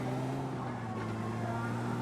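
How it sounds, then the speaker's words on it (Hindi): Vehicle engine in PUBG Mobile Lite, a steady droning hum held at an even, close level with no break, like a car pulling away on the road. "और बस अब मैं निकल रहा हूँ अपनी गाड़ी लेके"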